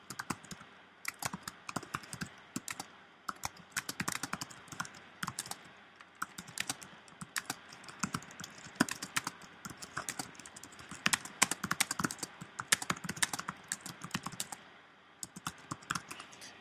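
Rapid, uneven clicking of keys on a computer keyboard during an online session, close and steady throughout with brief pauses, no voices.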